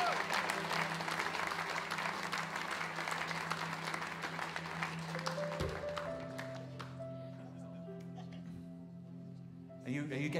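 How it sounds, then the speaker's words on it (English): A church congregation gives a sustained round of applause, dense and steady for several seconds before thinning out, with held musical tones underneath. "Give these mighty men of God a round of applause as they come up."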